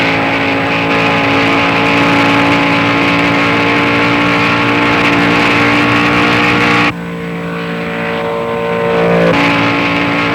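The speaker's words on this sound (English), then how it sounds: "This is Daytona at speed, at 190 miles per hour in Jerry Thompson's Corvette, climbing onto the 31-degree banks." Jerry Thompson's Corvette running flat out at 190 mph up the 31-degree banking at Daytona, a loud sustained engine roar with steady tones that drops abruptly partway through and then swells again.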